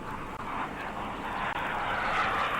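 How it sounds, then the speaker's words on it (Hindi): Indian Air Force aircraft, Rafale jets among them, flying overhead at an anniversary air show, a steady loud broadband roar that holds unbroken and swells slightly toward the end, with no talk over it. "इन विमानों की गूंज से गूंज उठा है"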